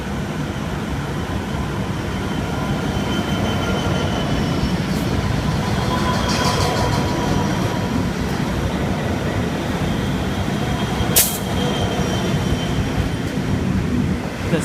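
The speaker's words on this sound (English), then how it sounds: "We got some freight coming, 82 classes." Freight train hauled by 82 class locomotives passing at Lidcombe in Sydney, a loud continuous rumble and clatter of wagons rolling by with a sharp brief squeal near the end and no voices.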